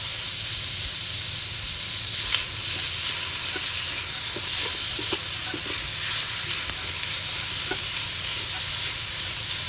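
Cut-up steak heating in a hot pan, a constant loud sizzle and hiss of frying with faint scraping clicks of stirring scattered through.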